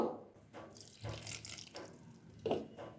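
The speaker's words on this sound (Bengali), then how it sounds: "আর অল্প জল দিয়ে দেবো" A small amount of water is poured into a mixer grinder jar holding green chilies, giving a few faint, short splashing gurgles in a quiet room.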